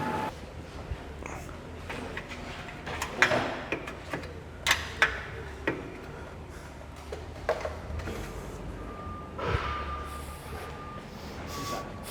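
A ratchet spanner clicks while parts are stripped from a Ferrari 296 GTB. The clicks are quiet and irregular, spread over a low background hum, with a few sharper ticks standing out.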